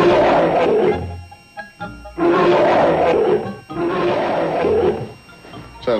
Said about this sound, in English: Sounds like a bear.